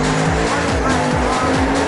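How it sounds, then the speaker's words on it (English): A nitrous-fed drag race car at a Ford Pop drag meet roars loud and close at the start line, its engine rising in repeated revving sweeps with a harsh, strained edge. "again favouring nitrous in the little Ford Pop, that's Jeff Meads."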